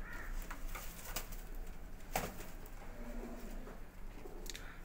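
Pigeons of a high-flying breed coo softly in a loft, several murmuring calls overlapping at close range with some background noise and a few sharper bird sounds.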